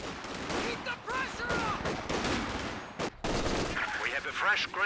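Machine gun fire in the World War II strategy game Company of Heroes 2: dense rapid bursts of shots amid other battle noise, steady and fairly loud, with a brief gap and a commentator talking at times.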